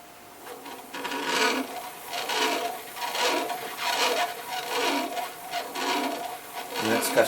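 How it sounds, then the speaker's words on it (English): A Sloan and Chace lathe cutting a 1 mm metric pitch thread, with repeated rasping, grinding passes rising and falling in a steady rhythm, close by and moderately loud. "cutting a metric pitch"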